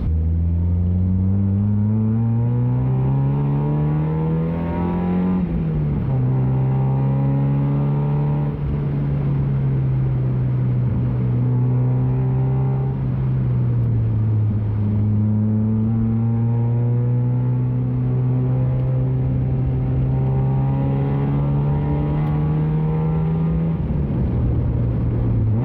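A Mazda MX-5 on a shakedown drive after a full underside rebuild, its engine note loud and steady throughout, rising and falling in pitch through gear changes with a constant close rumble and no talking.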